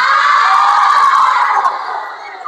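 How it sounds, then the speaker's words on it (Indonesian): A large crowd of students at an Islamic boarding school seminar shouts together loudly and continuously, a sustained massed yell that fades somewhat toward the end. "Kenceng banget teriaknya ya."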